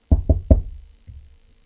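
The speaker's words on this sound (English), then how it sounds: "knock on wood." Three quick knocks on wood, sharp and close in a fast rhythm, followed by a softer dull thump.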